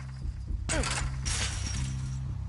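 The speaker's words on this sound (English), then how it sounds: "I smashed open the gate." A gate gets smashed open in the video game Firewatch: a sudden sharp crashing impact with a bright splintering burst, followed by a brief clattering tail over a low background hum.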